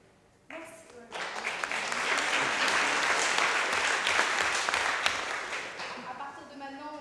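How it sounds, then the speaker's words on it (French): Conference audience applauding at the launch event of an effective altruism organisation, a dense, steady burst of clapping that starts abruptly, holds loud for several seconds, then tapers as a voice begins. "on garde tous les applaudissements à la fin."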